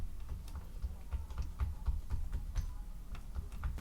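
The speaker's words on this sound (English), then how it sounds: "let's try the keyboard" Quiet, irregular clicking of keys being pressed on a Commodore 116 computer keyboard, with a soft low hum underneath throughout.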